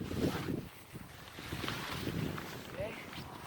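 Strong gusting wind buffets a tent outdoors, with rumbling microphone wind noise rising and falling across the moment and a voice speaking over it.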